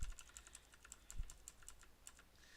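Arrow keys tapped on a computer keyboard, a dozen or so light, quick clicks in a steady rhythm with a couple of heavier thumps, close and alone without talk.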